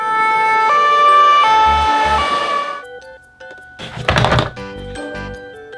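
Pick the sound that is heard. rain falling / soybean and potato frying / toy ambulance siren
toy ambulance siren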